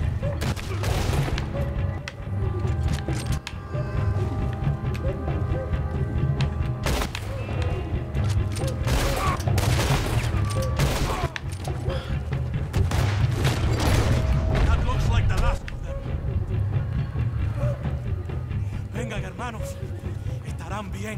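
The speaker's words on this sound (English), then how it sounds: "Who's shooting up?" Repeated gunfire from a Red Dead Redemption 2 shootout, with sharp shots and thuds cracking out in irregular bursts across the scene, mixed with game music and voices talking over the fighting.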